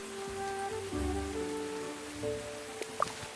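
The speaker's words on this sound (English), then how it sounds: "since it's such a rainy day" Steady rainfall in the video game Tales of the Shire, a soft continuous patter under tonal game music, with a couple of brief louder drips near the end.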